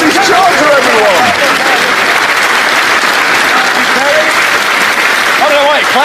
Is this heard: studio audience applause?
yes